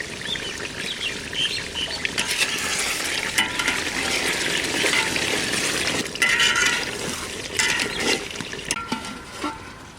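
Duck meat sautéing with whole garlic cloves in a handi over a village fire, a continuous sizzle with rhythmic scraping and stirring, fairly loud and close.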